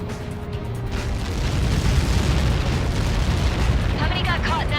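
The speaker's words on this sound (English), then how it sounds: "How many got caught in that explosion?" A large explosion impact from Helios projectiles in the Ace Combat 7 video game, heard as a sustained, loud, rumbling roar that swells and holds throughout.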